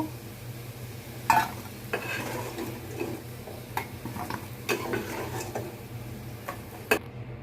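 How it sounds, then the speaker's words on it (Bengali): Potatoes frying in oil in a pan while beef tongue cooks, giving a soft steady sizzle with scattered stirring scrapes and light utensil clicks, close and fairly quiet, with no talking. "আলুগুলো আমি লাল লাল করে ভেজে নিয়েছি। এখন আলুগুলো উঠাবো।"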